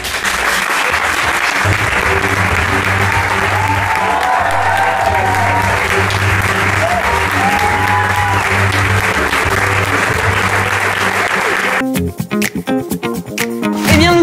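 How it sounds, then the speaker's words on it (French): Theatre audience at an improvisational comedy show applauding steadily, a dense sustained clapping that fills the room for about twelve seconds before breaking off into scattered, uneven claps near the end. "applaudissez maintenant."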